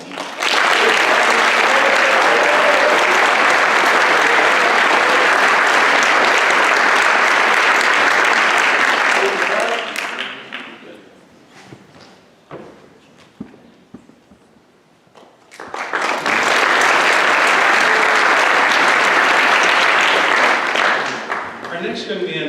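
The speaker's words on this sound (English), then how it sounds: "A big round of applause for Matthew." Audience applause at a Scholastic Honors Night 2023 awards ceremony fills the room in two long, loud, dense bursts, separated by a few seconds of quieter scattered clapping and murmur.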